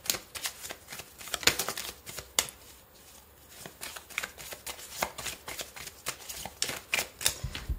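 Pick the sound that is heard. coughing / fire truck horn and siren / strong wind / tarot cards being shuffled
tarot cards being shuffled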